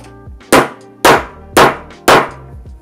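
Four loud, evenly spaced hammer blows set a metal snap into fabric, each a sharp clanging strike with a short ringing decay, nearby and alone.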